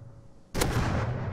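A double barrel shotgun fires in the game Rust, one sudden loud close blast after a quiet lead-in, with a booming tail that rings on to the end.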